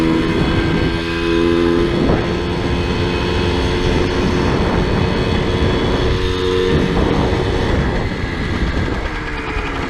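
A cheap moped's small engine runs steadily and loud up close through the whole stretch, a dense buzzing drone with slight swells as the throttle shifts, and no voices over it.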